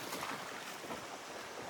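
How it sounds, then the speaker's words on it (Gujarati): Ocean waves wash around a boat near an island in strong wind, making a continuous broadband rush of water and wind noise with gentle swells in loudness. "પાણીના મોજા મોજા આવે છે."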